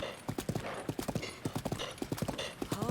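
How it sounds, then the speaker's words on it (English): Horse hooves clip-clopping in Zelda: Breath of the Wild, a quick, even trotting rhythm of sharp close hoofbeats continuing throughout, with faint game ambience and a short snort near the end. "Kepi horse likes me."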